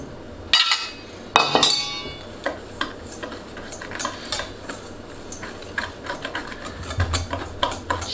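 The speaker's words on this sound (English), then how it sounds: "then we're going to whisk in the brown sugar" Dry flour, cinnamon and brown sugar whisked together in a mixing bowl for a muffin crumb topping: a couple of sharp clinks, then a steady run of light scraping, tapping strokes, close by with no talking.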